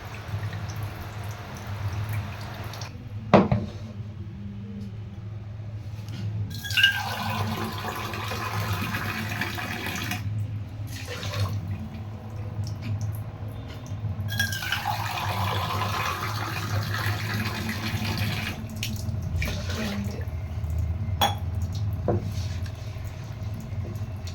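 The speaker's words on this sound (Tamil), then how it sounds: "அரிசியை வந்துட்டு கழுவி தண்ணி எடுத்துகிட்ருக்கேன்" Tap water runs into a kitchen vessel while rice is washed, coming in two longer gushing bursts separated by quieter gaps with scattered drips and small clinks.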